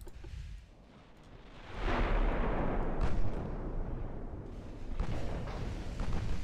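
Battleship broadside fire in Ultimate Admiral Dreadnoughts, heard as a sustained, loud rumbling barrage of heavy booms that swells after a brief lull and keeps rolling with deep, overlapping blasts.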